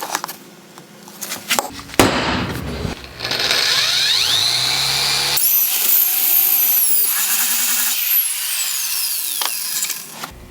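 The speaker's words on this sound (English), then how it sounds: "So we need something of that diameter to drill it out." A power drill bores a hole through a license plate bracket on a Honda Goldwing bobber build. It gives a loud, close, sustained whine that climbs and holds, with brief starts and stops at first, and no talking.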